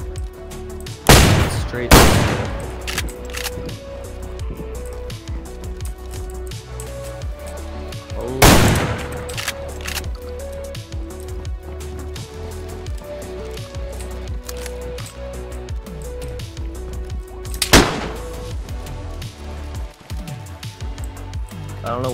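Gunfire in DayZ: three loud isolated gunshots spread far apart over a steady ambient background with a faint repeating tone, while a player speaks briefly.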